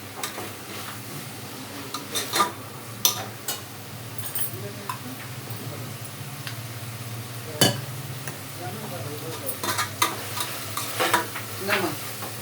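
Asafoetida frying in hot oil while a spoon stirs and clacks against the pan. The sizzle is close and steady, broken by sharp irregular metallic knocks, with a faint voice now and then in the background.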